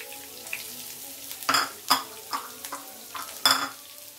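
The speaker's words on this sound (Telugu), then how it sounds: "కొంచెం కరివేపాకు వేసుకొని కలపాలి. ఏగే వరకు కలపాలి." Curry leaves fry in a pan while being stirred, a soft sizzle broken by several sharp spatula clanks and scrapes against the metal at uneven intervals, with no voices.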